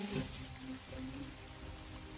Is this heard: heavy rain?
yes